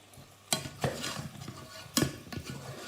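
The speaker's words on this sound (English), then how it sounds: "I'll show you how to stir." A spoon stirring pasta sauce in a pot, giving a few scraping, clinking strokes with soft sizzling between them, close and fairly quiet, with no talking.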